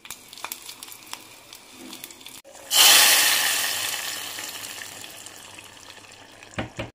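Tempering for dal (talimpu) hits hot oil with a sudden loud burst of sizzling that fades slowly over several seconds, after a quieter stretch of kitchen clatter and stirring.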